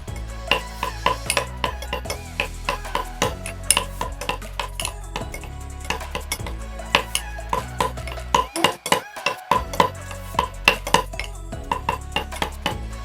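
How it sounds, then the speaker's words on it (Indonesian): A spoon clinks rapidly against a glass or bowl, stirring a lab test solution in quick repeated taps with a short pause partway through. "Kemudian kita homogenkan menggunakan sendok."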